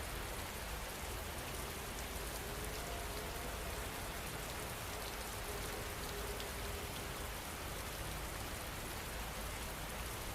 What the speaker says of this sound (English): As the rain begins to fall